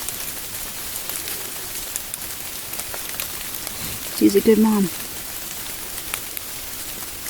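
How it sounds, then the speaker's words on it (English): Heavy rain falls steadily after an ice storm, a dense, even hiss that lasts the whole time, with a brief spoken voice cutting in midway. "So now we've just had a ton of rain."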